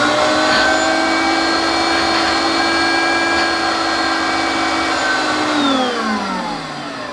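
A Hoover Concept vacuum cleaner runs with a loud, steady motor whine and layered tones, then its pitch drops at the end as it begins to wind down.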